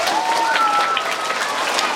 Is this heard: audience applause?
yes